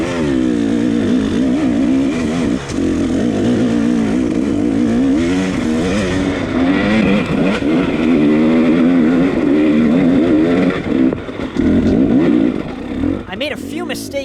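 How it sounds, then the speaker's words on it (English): A dirt motorcycle in a Tennessee Knockout hill race revs hard and loudly throughout, its engine note rising and falling with clutch work as it climbs, close and continuous, with a voice speaking over it. "So it's a little little more clutch work to get the bike going on those hills."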